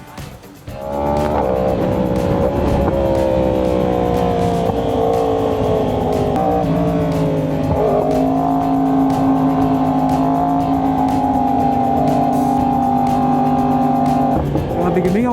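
A Yamaha R1 motorcycle engine drones loud and close, its pitch climbing and dipping as the bike rides and changes speed.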